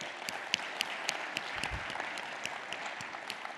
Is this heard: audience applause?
yes